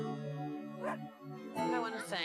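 A rescued dog greets its rescuer excitedly with high whines and yips, heard under a continuous voice talking.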